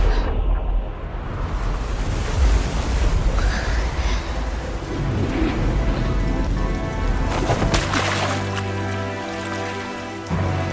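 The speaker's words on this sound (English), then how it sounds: "Wow, it's raining." Steady rain in a boss cutscene of the video game Wuthering Waves, a dense broadband hiss that holds throughout, with deeper tonal music or effects swelling in near the end.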